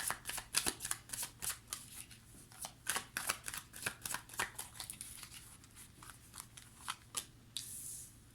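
Tarot cards are shuffled close up in a rapid run of crisp riffling flicks and slaps with an uneven rhythm, ending with a softer brushing sweep.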